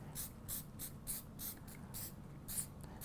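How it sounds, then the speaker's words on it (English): Hairspray lightly misted over a sugar flower in short bursts, about eight quick hissing puffs in a loose rhythm, close and fairly quiet with no talk. "you can just then very lightly spray over the top of this"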